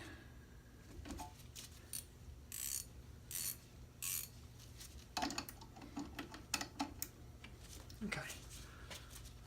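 Husky 3/4-inch ratcheting wrench breaking loose a bolt torqued to 100 foot-pounds, heard as bursts of close metallic ratchet clicks in short runs, mixed with background talk.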